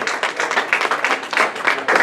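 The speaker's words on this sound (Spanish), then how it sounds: "Denle ese aplauso al Señor." A church congregation claps steadily in a dense, sustained round of applause, close and continuous without a break.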